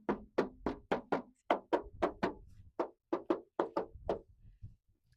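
Knuckles rap on the metal rear door of a 2007 Toyota Avanza in about a dozen hollow, close, fairly quiet knocks, grouped in short uneven runs.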